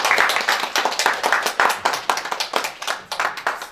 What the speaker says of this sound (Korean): 우리 뜨거운 마음으로 박수 환영해 주시죠